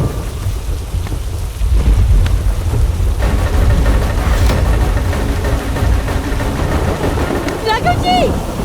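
A storm lashes down with steady heavy rain and rolling thunder, loud and continuous, with a brief high sound near the end.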